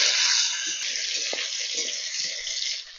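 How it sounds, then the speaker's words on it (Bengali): Steady hiss of tomatoes frying in a pan, fairly loud and continuous, with a few soft knocks underneath that fade near the end. "টমেটোটা ভাজা হোক।"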